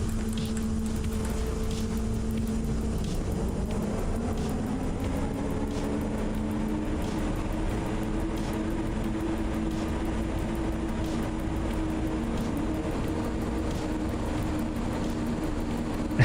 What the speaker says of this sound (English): And soon I will be able to get this train back to proper speed.